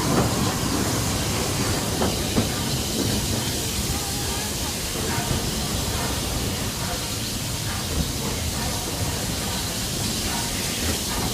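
The Roy O. Disney No. 4 train rumbles along the rails with a steady hiss and faint clicking of wheels, continuous and fairly loud throughout.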